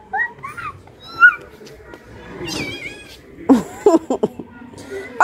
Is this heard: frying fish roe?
no